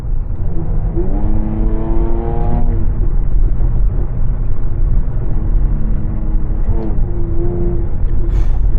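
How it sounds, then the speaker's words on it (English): A Jaguar F-Type in race mode accelerates hard under throttle, its engine note climbing steeply in a loud rising rev, easing briefly, then surging again with a deep rumble from inside the car. "give it a little bit of throttle, it's like bam, power right away"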